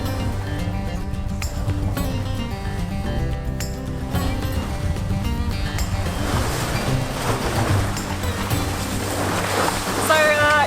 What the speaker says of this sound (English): This annoying boat behind us who's making all this noise